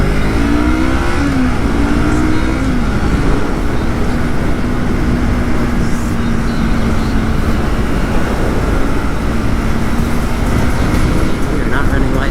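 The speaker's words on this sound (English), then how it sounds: "Probably gonna hop back on the freeway now, and audio is probably gonna be garbage" Car cruising and accelerating on a freeway, with a steady loud road and engine roar that rises slightly in pitch as it speeds up, filling the whole stretch without any break.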